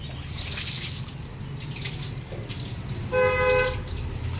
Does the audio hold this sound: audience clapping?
no